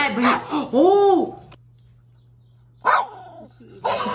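A dog barks in short bursts at a chicken eating from its food bowl, with loud harmonic yelps early on, then a quiet gap before more barking and commotion, while a person talks over parts of it.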